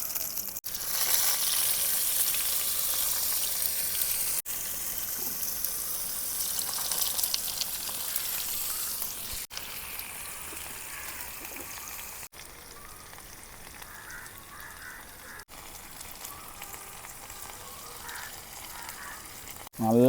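Sole fish fries in coconut oil with curry leaves, a soft, steady sizzle that grows quieter over time, with a few faint clicks and handling noises.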